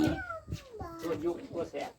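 A house cat meows several times in short, high, wavering calls outdoors at a lunch of fish soup, close by and mixed with people chatting.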